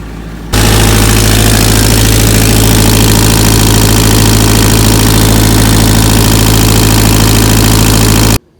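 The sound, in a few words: engine idling in reverse gear under load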